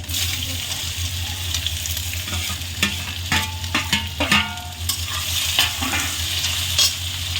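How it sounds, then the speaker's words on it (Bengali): Taro pieces dropped into a pan with chui jhal, loud steady oil sizzling broken by clattering stirs and sharp utensil knocks against the pan. "এবারে এই যে কচুরমুখিগুলো আমি দিয়ে দেবো"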